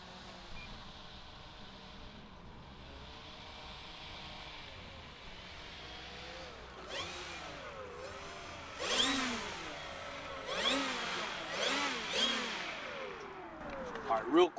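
Twin Timber 1.6m RC plane taxiing back on the ground, its small electric motor whirring and rising in short throttle bursts that grow louder toward the end, close by.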